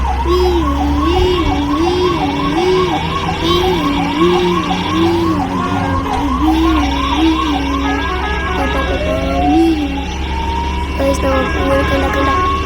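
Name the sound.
ambulance siren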